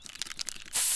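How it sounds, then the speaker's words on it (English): Pepper spray is fired in South Park: The Stick of Truth, heard as a loud, steady hiss that bursts in abruptly after a moment of faint scratchy rustling. "Protect yourself from the pepper spray."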